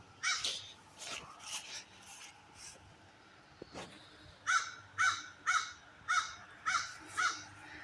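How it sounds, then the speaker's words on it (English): A crow caws outdoors beside a zone 4b garden, first a few scattered calls and then a steady run of six evenly spaced harsh caws, moderately near over quiet background. "That crow is going to be driving people crazy."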